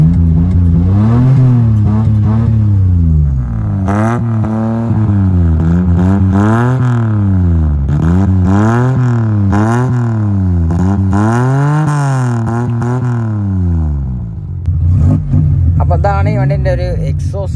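A modified Maruti 800 with a carburetor engine revs again and again, its pitch climbing and falling in a steady series of loud, close blips for most of the stretch before settling near the end.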